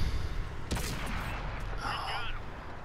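A loud, booming tank cannon shot from a Cromwell in World of Tanks on PS4 hits early, followed by a rumbling battle din and a rising whine.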